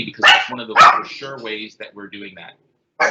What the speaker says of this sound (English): that's just my dog here